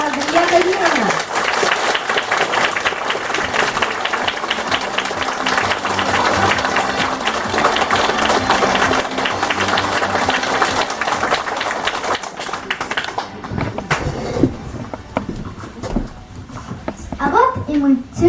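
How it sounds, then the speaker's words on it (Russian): At a school class event welcoming the 4th-grade class teacher, a crowd claps loudly and continuously for about twelve seconds, then the applause drops away into quieter voices and scattered sounds. "Встречайте громкими аплодисментами классный руководитель 4 А класса Литвара Андрея Давидовна"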